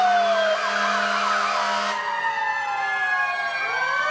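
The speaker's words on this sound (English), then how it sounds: "Ambulance is now coming through." An ambulance siren moving along a village Independence Day parade route, a loud wailing and yelping siren with shifting tones as the vehicle passes close by.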